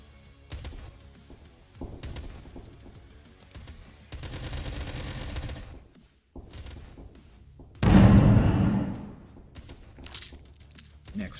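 Mortar fire in the video game Doomtrain: several heavy booming bursts, with one loud, long blast near the end, standing out over steady in-game background noise.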